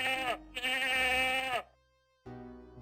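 Two long, wavering sheep bleats from the 1993 Sierra adventure game Freddy Pharkas: Frontier Pharmacist, loud and close, followed by a pause and a fainter sustained tone.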